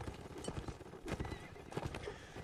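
Horses gallop in the Mount and Blade Warband battle game, hoofbeats clattering in quick uneven bursts with whinnies mixed in, busy and fairly close.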